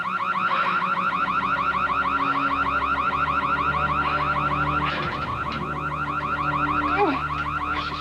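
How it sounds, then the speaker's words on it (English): A gate alarm wails continuously in a rapid, warbling electronic cycle, loud and close, with low humming tones beneath and a brief disturbance midway. "She's trying to open the gate. That's what set off the alarm."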